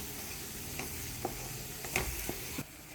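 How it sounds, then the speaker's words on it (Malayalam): A frying tomato rice mixture with garam masala and fennel powder stirred in a pan, giving a soft sizzle under a few scattered spoon scrapes and taps, close but fairly quiet with no talking. "ഇനി നമ്മൾ നല്ലോണം ഇളക്കി കൊടുക്കണം കേട്ടോ"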